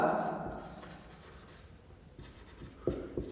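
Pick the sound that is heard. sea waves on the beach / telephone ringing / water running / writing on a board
writing on a board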